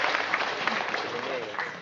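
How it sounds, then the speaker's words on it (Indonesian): Scattered, hesitant audience applause at a large religious gathering, a thin sustained patter of clapping with crowd murmur and a voice under it. "Ini tepuknya agak ragu-ragu."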